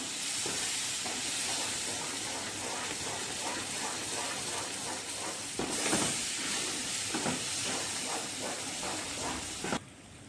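Mango sheera simmering in a pan over a low gas flame gives a steady soft hiss and gentle sizzle with faint stirring clicks, continuous and close, with no voices.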